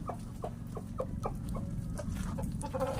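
Black Australorp and Rhode Island Red chickens cluck in a rapid, rhythmic series of short calls on a farm, fairly faint, over a low background rumble, with no talking.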